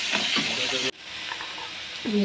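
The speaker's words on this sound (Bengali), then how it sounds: "নুন হলুদ দিয়ে দিই, নুন হলুদ দিয়ে ভালো করে নাড়াচাড়া করি।" Food frying with salt and turmeric being stirred in a pan, a hissing sizzle with scraping that drops away briefly partway through, while someone talks over it.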